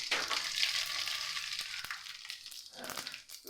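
Mustard seeds splutter and crackle in hot oil in a pan while cooking snake gourd gravy, a dense close sizzle with sharp pops, fading slightly toward the end.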